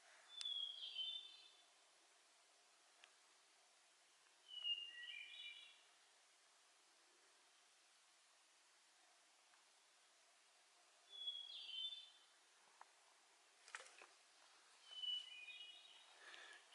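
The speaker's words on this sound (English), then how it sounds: "quiet as can be, and hearing the birds chirp" Sparse bird chirps in quiet woods, short bursts of high calls a few seconds apart, faint and distant.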